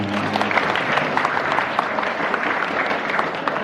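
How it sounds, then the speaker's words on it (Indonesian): A group of school students at an orientation session claps together, a steady, moderately loud patter of many hands sustained throughout. "silakan tepuk tangan untuk kita semua"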